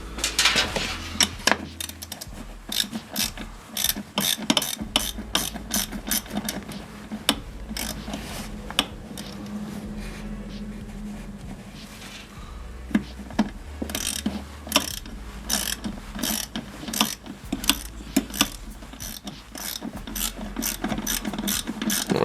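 A ratchet tightens the clamp on a bell-shaped fuel filter, giving long runs of fast, loud metallic clicks close up, broken by brief pauses between strokes.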